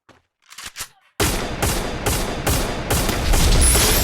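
Gunfire in a shooting video game: after a few quiet taps, a loud burst of rapid repeated shots fires in a steady rhythm for several seconds, close and dominant.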